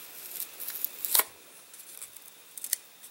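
A replacement wood patch is cut oversize for a crashed glider's repair, making faint, close snipping and rasping cuts in short irregular bursts, with one sharper cut partway through and no voices.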